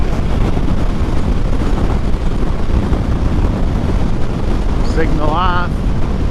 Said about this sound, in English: Get a lot of wind on this road.